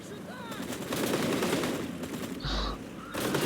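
Light machine gun fire in a video game rattles in sustained rapid bursts, loud and close, with a brief pause and a lighter crack partway through.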